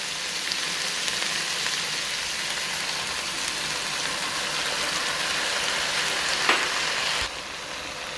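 Tomatoes hit hot oil in a frying pan for a bean sauce, a steady loud sizzle close up, with a brief clink near the end before the hiss drops slightly.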